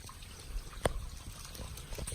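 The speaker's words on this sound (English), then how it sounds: "And there's just water flowing down there." Water trickles faintly down a small gorge on a forest trail in Hoosier National Forest, heard as a soft, steady, distant flow with one sharp click partway through.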